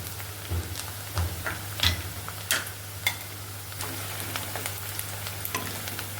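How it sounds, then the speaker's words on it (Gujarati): Onions sauté in a pan over medium heat, a soft crackling sizzle with scattered pops and a few stirring scrapes, close by, under a low steady hum and with no talking. "પછી આપણા કાંદા છે બેથી ત્રણ મિનિટ સુધી આપણે સતળાવા દઈશું"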